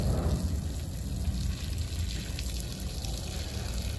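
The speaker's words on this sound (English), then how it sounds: "And we'll turn the hot water on." Hot water running from a tap in a 2023 Winnebago Solis 59PX camper van during winterizing, a steady close hiss and splash of flowing water with no talk.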